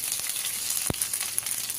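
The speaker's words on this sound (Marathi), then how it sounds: "जिरे पण तडतडले की त्यामध्ये कढीपत्ता घालायचा" Cumin seeds and curry leaves sizzle in hot oil for tempering, a close, steady crackling hiss with a single sharp pop partway through.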